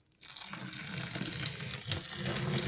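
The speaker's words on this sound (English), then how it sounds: "we're going to put some hot water on it" Hot water pours onto seed-starting potting mix for growing rudbeckia, beginning after a brief quiet moment as a steady, close, hissing and crackling splash that continues without a break.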